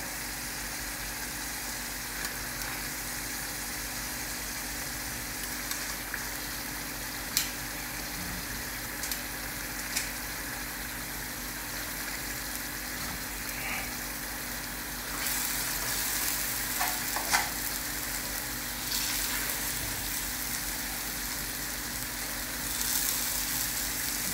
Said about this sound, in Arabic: وهنا أضيف قطع السمك